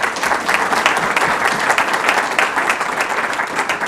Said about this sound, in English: they certainly deserve a huge round of applause